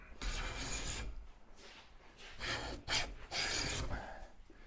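A hand plane is pushed along the edge of a wooden board, making several close, rasping strokes of about a second each. Short pauses separate the strokes, and no one speaks.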